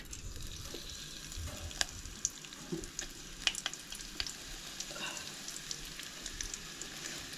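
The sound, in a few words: curry leaves sizzling in hot oil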